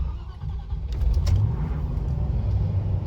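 A Land Rover Discovery 3 V8 with a manual gearbox starts on petrol and settles into a deep, steady idle rumble, with brief clicks near the start of the catch.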